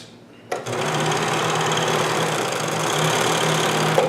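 A Janome 634D CoverPro1000 coverstitch machine runs at steady speed while sewing knit fabric, starting abruptly after a brief pause and then holding a loud, continuous, even mechanical whir with no one talking.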